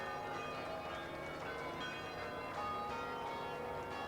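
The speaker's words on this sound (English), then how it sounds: "Listen to the bells." Nine large bells weighing about 4,300 pounds in total ring together on the Ringling circus bell wagon during a street parade, a dense, sustained wash of overlapping chimes going on continuously without talk.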